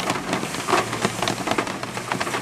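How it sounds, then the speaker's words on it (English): Heavy rain pours steadily and loudly, a dense continuous hiss of drops drumming on surfaces with no voices. "It is raining horribly hard."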